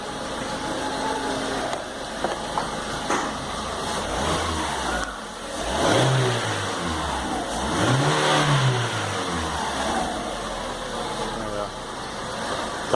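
A repaired Volkswagen Saveiro G engine idles, then revs up twice in smooth rising and falling sweeps, loud and close, while someone talks over the running motor.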